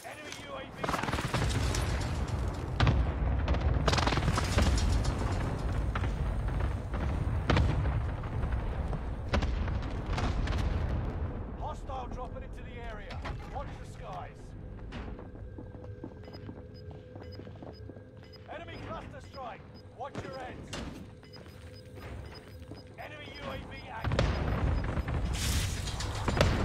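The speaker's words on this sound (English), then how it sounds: "Enemy precision airstrike." Precision airstrike explosions boom in the Warzone video game, a dense run of loud blasts and gunfire early on, then quieter rumbling and scattered shots, ending with another burst, with a player talking over it.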